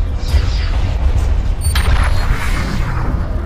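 An enemy spaceship blows up in Starpoint Gemini 2, a loud, sustained low boom with a crackling burst partway through and a rumbling tail.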